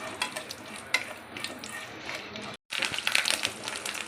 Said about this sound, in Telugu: ఇలా కరివేపాకు వేసుకొని కొంచెం చిట్టపట ఆడిస్తే క్రిస్పీగా ఉంటే చాలా బాగుంటుంది కదా